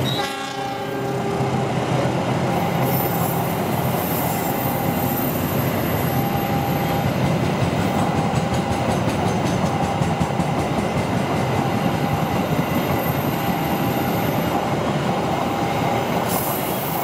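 A train rolls steadily and loudly through the big curve at Cikarang, Indonesia, wheels rumbling and squealing continuously with a horn sounding at points; no speech.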